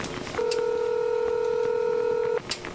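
A DMZ hotline telephone to North Korea is dialed, producing one steady two-frequency dialing tone that holds for about two seconds over a quiet room hum, then cuts off abruptly.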